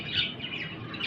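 Pet parrots chirp and tweet in quick, bright bursts, close and moderately loud over a short stretch.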